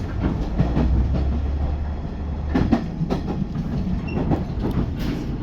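Steady rumble of a local train carriage in motion between Iiyama and Nagano, Japan, with a low drone and faint rhythmic clacks of wheels on the rails throughout.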